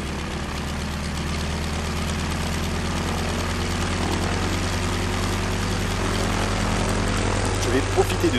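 Constant low droning hum of an airplane engine in flight, steady throughout with a slight rise near the end.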